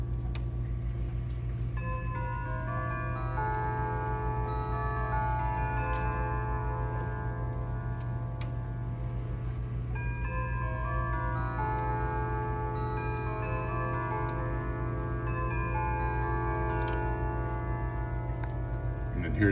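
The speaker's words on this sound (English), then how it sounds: "It's triple chime, so you get St. Michael, Whittington, and Westminster, and then a silent on it." A Yock-movement triple-chime wall clock plays a steady, melodic chime tune of sustained ringing tones over a continuous ticking, close and moderately loud throughout.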